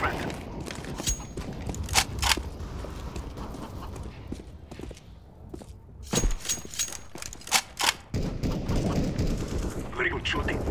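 Gunfire in a Counter-Strike: GO deathmatch on Dust II: sharp, close shots in quick bursts and single cracks, thinning out midway before dense rapid firing resumes.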